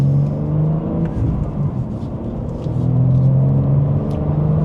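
A BMW manual coupe pulls in second gear under mild throttle, a steady engine drone with a rising tone that swells slightly toward the end, heard from inside the cabin.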